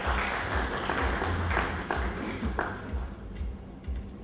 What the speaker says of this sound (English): a round of applause for the book and for everybody who's in it